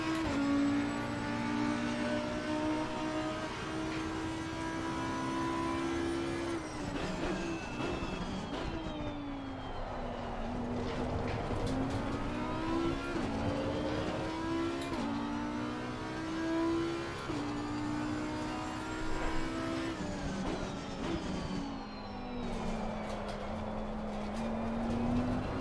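A GT race car in Assetto Corsa Competizione driven with power oversteer, engine revving up and down in long surging sweeps as the throttle is worked, with gear changes and a steady loud drone throughout.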